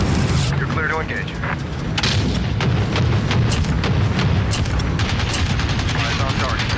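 Explosions from an air support strike in Call of Duty: Modern Warfare rumble loudly and continuously, with sharp cracks of gunfire layered on top and radio voices talking through the din.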